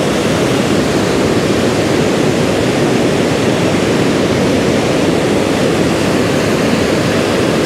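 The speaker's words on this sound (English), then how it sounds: "These are waterfalls." A swollen river pouring over waterfalls at high water on a walk in Germany, a loud, steady, unbroken roar of rushing water filling the whole scene without pause.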